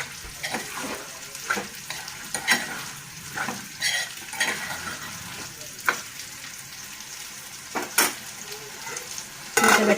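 Chicken liver and raw banana curry cooking in a pan: steady sizzle broken by sharp pops and spatters plus occasional utensil scrapes against the pan, close and moderately loud, a burst of popping at the very end.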